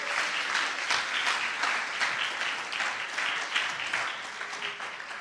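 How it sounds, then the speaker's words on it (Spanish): A church congregation claps loudly and steadily for several seconds, a dense wash of hand claps filling the room. "Que no le da un aplauso fuerte"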